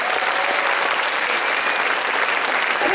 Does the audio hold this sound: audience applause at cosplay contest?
yes